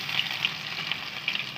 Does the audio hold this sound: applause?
no